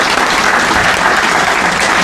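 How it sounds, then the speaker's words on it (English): An audience applauds at the opening of a renovated branch library, giving a dense, steady burst of clapping from many hands throughout. "Just if you could clap your hands, because this is such a beautiful branch."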